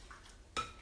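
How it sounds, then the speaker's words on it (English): A spoon stirs pasta salad in a bowl: a soft brush of movement, then one sharp close clink of utensil against the bowl near the end, all very short and quiet. "let me stir my potato salad. I mean my pasta salad."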